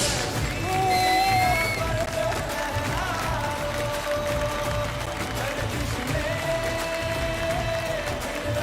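Audience applause on the MasterChef India cooking show, with steady clapping and crowd noise running throughout while music and voices sit on top.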